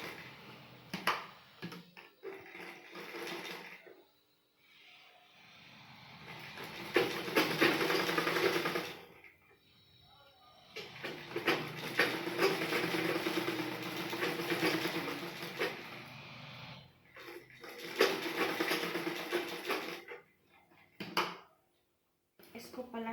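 Sewing machine stitching blouse fabric, running in repeated bursts of steady whirring with short pauses between seams, near and fairly loud, with someone talking in between.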